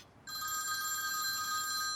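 A telephone rings loudly and steadily with a bright electronic trill during a family meal in a Turkish drama dubbed into Urdu, starting abruptly after a brief quiet moment with no talking over it.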